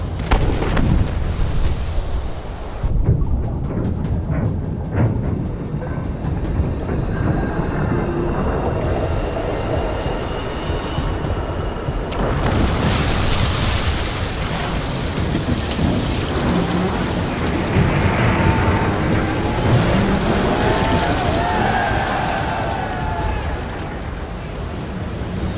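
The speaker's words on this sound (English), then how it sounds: "the last 2 depth charges blew the sub half out of the water" Depth charges exploding underwater near a submarine give a heavy, continuous rumbling roar with sustained low booming and churning wash; loud and close throughout, with a sharp change in texture midway, and no talking.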